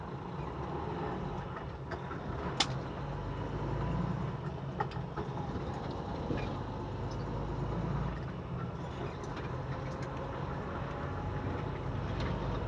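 A 13-speed truck rolling in 3rd gear, a steady low engine drone and rumbling road noise with faint rattles and one sharp click, continuous and close, no talking.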